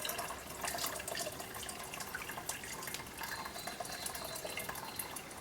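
Wort drains from steeped grains while brewing a Coopers Vintage Ale, a faint continuous trickle and patter of liquid with scattered drips, close and alone.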